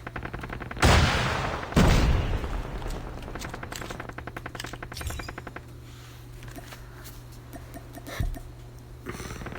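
Pistol shots in a shooter video game played as a pistol-only challenge: two loud close shots early, then a run of softer rapid shots and clicks, with a faint later pop.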